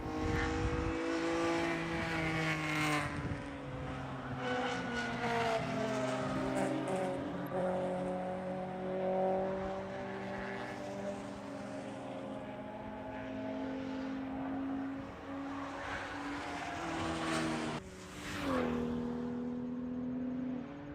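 GT/GP race cars qualifying at Watkins Glen, engines revving and shifting as cars pass, with rising and falling engine tones, a continuous close roar for the whole stretch and a distinct pass near the end.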